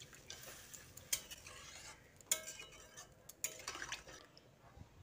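A spoon stirs potatoes cooked with spices after a cup of water is added to the pan, producing quiet wet sloshes and sharp clinks of metal on the pan in an uneven rhythm.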